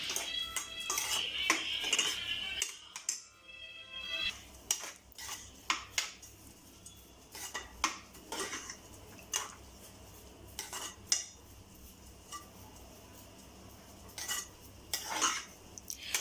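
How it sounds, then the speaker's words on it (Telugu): Rice for jeera rice being stir-fried in a pan, with repeated scraping and clinking of a spatula against metal in an irregular rhythm, close and fairly quiet, with no talking. "ఇలా 1-2 మినిట్స్ కొంచెం ఈ రైస్ ఫ్రై చేసి"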